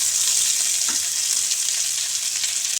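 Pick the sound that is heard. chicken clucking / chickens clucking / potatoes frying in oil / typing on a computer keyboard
potatoes frying in oil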